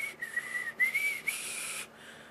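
A person imitates a high whistling sound with a thin, wavering breathy whistle broken into several short stretches over about two seconds, close and moderately loud, with no other talk.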